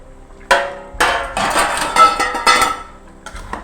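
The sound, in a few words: stirring beef, potato and ash gourd curry in a pot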